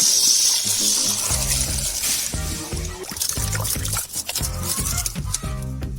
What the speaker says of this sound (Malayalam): വെള്ളം ഞാൻ തെറിപ്പിക്കാൻ വേണം.